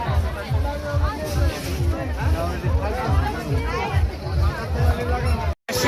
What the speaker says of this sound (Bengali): লোকে ভিড় এখন কম নাই ভিড় বাড়তেছে